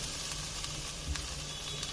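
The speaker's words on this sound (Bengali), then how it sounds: "এখন গ্যাসের ফ্লেমটাকে কমিয়ে এটাকে আমি একটু শুকনা শুকনা করে নেব" Bottle gourd leaves dry-frying in a pan over a low gas flame give a soft, steady sizzle and faint hiss, quiet and even throughout with no talking.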